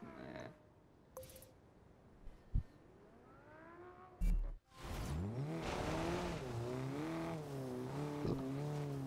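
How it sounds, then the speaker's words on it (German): A Mercedes in Forza Horizon 2 revs and accelerates with some brief tire squeal, the engine pitch sweeping up and down. A few sharp clicks come early, and the engine drone carries on steadily after that. "Ich fahre jetzt einfach mal so ganz chillig mit meinem Mercedes hier."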